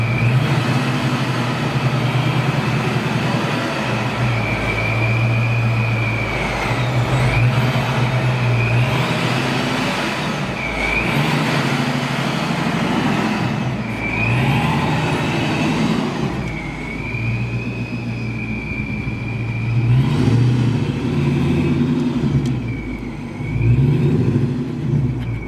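Supercharged LS1 V8 in a 1968 Pontiac Firebird, Procharger-boosted, idling loudly with a rough rumble and repeated throttle blips whose supercharger whine rises and falls, close up with no talking.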